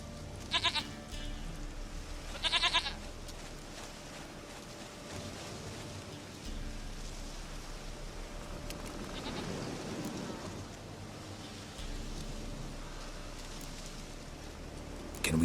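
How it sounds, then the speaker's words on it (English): A goat bleats in the video game Witcher 3, two short bleats near the start over steady rain-like ambient noise, with no speech. "Goat of mine, dearest, sweetest goat."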